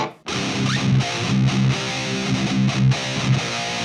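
An electric guitar played through an Ibanez PT5 distortion pedal rings out with loud, sustained distorted chords and a few changing notes, heard alone and up close.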